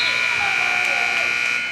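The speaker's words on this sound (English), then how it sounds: "the buzzer sounds to end the first quarter" A buzzer marks the end of the first quarter of a high school basketball game between the Manor Mustangs and the Cedar Creek Eagles. One loud, sustained electronic blare fills the whole moment over the crowd noise of the gym.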